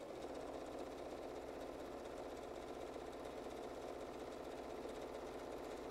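Sewing machine stitching a placemat, a very faint steady mechanical whir with a rapid regular stitching rhythm running without pause.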